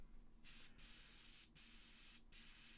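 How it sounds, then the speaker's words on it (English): An aerosol can sprays paint onto a McFarlane Toys Hellblaster Primaris marine figure, making steady close hissing bursts broken by three short pauses between sprays. "Let's spray it downwards."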